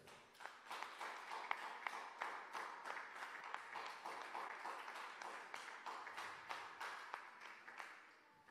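Congregation applauding at a church service, a steady dense wash of many hands clapping with sharper individual claps popping through, continuous and fairly loud throughout.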